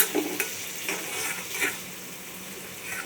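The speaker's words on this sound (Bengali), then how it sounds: "আমি এখানে কুচা চিংড়ি ভুনা করতেছি।" Small chopped shrimp frying in a pan for shrimp bhuna, with steady sizzling and a few scraping stirs, close and moderately loud, no voices.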